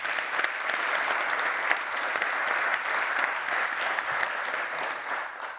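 A conference audience gives sustained, dense applause at the close of a management event, many hands clapping steadily in a room with no pause.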